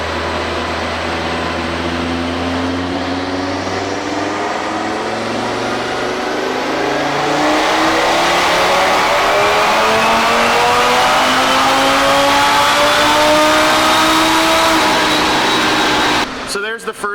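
A tuned car engine revs hard on a dyno and steadily climbs in pitch through a long, loud pull, ending abruptly with a brief clatter.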